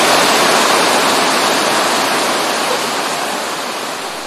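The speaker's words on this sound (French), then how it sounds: "c'est le départ de la cascade del Diablo" Dense, roaring rush of the Cascada del Diablo waterfall in the Ecuadorian Amazon. The sound is loud, steady and close, easing off slightly toward the end, with no voices.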